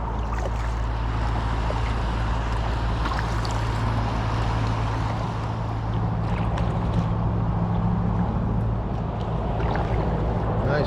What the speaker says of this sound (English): Little cruiser coming up behind me.